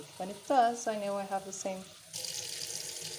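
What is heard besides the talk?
water filling a pot of rice on the stove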